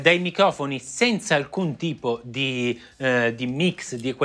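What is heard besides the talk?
No everyday noise stands out behind the speech.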